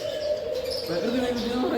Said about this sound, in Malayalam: അത് സൗണ്ട് കേൾക്കുമ്പോളേ അതാണ് നല്ല സൗണ്ട് ഇല്ലേ കിളിയുടെ